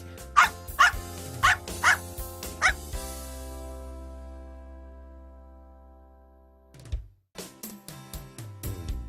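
A dog barks several times in quick succession, then a sustained tone fades before another run of rapid, clipped barks.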